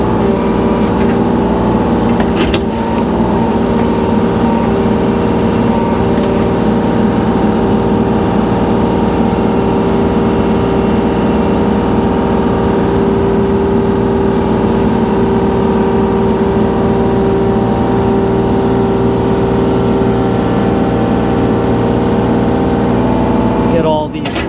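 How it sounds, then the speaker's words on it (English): A Kubota tractor engine runs steadily throughout while grappling logs from a pile, its loud continuous drone with harmonic hum staying close, with a brief clunk near the start. "pick them up with the grapple on the tractor"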